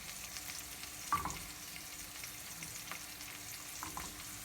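Butter melts in a pan, giving a faint, quiet sizzle with a few soft taps and clicks of utensils.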